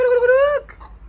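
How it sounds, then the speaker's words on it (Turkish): A single short, clear, tonal call from a chicken among a backyard flock, close and fairly loud, lasting about half a second before fading into quiet background. "Tavukla kendine konuşuyorlar."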